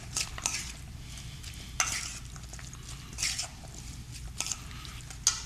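Fruit tossed with crumbled blue cheese in a bowl gives soft, irregular stirring and squishing sounds with a few sharper clinks, fairly quiet and close, with no talking.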